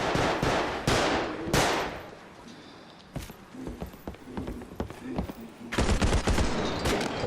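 Gunfire in the video game Bodycam rings out as several sharp close shots, then scattered bursts and a dense cluster of rapid shots near the end, with softer footsteps-like clatter between.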